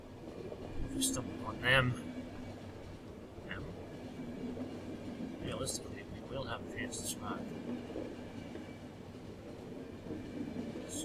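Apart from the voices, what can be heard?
train running in video game The Final Station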